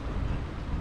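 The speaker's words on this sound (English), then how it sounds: "the wind's just picked up behind us" Wind gusts roar across the microphone aboard a cruising boat, a steady, close, broadband rush without any distinct voices.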